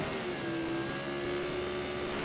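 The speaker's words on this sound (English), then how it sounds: "revs come up" A high-revving Formula Pacific racing motorcycle engine drones steadily at close range at a race start, its pitch holding nearly constant throughout the short stretch.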